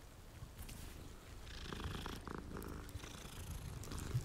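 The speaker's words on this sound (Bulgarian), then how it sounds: "Бате, как мърка!" A fat cat purrs in the video game Hogwarts Legacy, a soft continuous rumbling purr over faint game ambience, with no talking.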